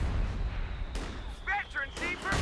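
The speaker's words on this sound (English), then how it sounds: "those mortar half tracks going to work" Mortar half-tracks firing in Company of Heroes 2, a few muffled thumps of launching and landing rounds under a busy game battle, with a voice talking over parts of it.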